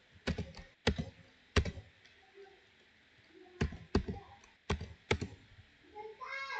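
Keys on a computer keyboard are struck in short sharp bursts while a name is entered into a form, clusters of crisp clicks separated by quiet pauses, close and fairly faint.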